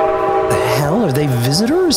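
A loud, steady, multi-tone train horn from the video game Fallout 76 blares close by, then fades under a man's startled speech.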